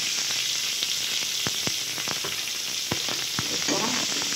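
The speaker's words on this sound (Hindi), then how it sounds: "जब जीरा तड़कने लगे तो मैं ये प्याज और हरी मिर्च जो मैंने काट रखी है उसे डालूंगी।" Onion and green chili hitting hot oil with crackling cumin seeds, a steady loud sizzle with scattered sharp pops and spatters, close up, while making poha.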